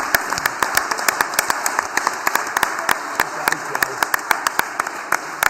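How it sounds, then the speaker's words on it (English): A press-conference crowd gives Callum Smith a round of applause, with scattered individual claps ringing out sharply and fairly close, while voices carry on beneath them. "I'd like everyone here to give Callum Smith an applause"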